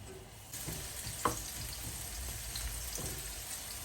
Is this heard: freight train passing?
no